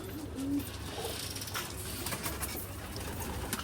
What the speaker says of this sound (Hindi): तो दोस्तों ये कबूतरी जो है